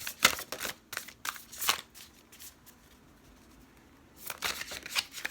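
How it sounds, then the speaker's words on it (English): Oracle cards being shuffled and pulled from a deck, several quick papery riffles and flicks nearby, a quiet pause, then another burst of shuffling with no talk. "I'm pulling a few cards. I'm using some oracle decks."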